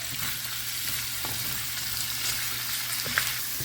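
Peas and potatoes frying in a pan make a steady, close sizzle with soft stirring scrapes and a brief clink near the end.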